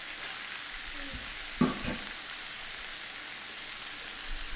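Ribeye steaks of about 1.75 pounds each sizzle in a hot pan, a steady bright hiss broken by one brief louder spatter or clatter near the middle.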